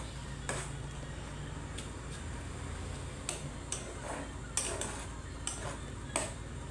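A spoon stirs food with egg in a cooking pot, tapping the rim in a loose series of crisp metallic clicks about once a second over a low steady background.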